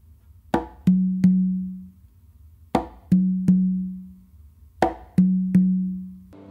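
A closed slap on the conga followed by two ringing open tones on the tumba, repeated three times in an even rhythm. The hits are close and loud, and each open tone rings out briefly.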